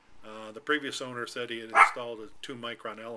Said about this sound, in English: Excuse me, that's my dog. She's a terrier.